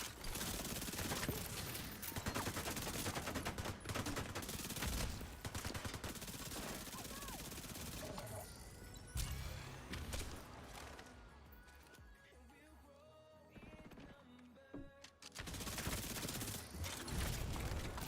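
Gunfire and grenade blasts from a hostile turret in a shooter video game come in rapid, loud bursts with scattered explosions and brief pauses. A player talks over part of it.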